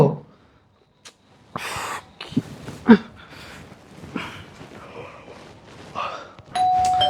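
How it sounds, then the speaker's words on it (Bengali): A doorbell chimes near the end with a clear sustained tone, following scattered breathing, rustling and short vocal sounds. "এত জোরে জোরে কলিং বেল বাজায়"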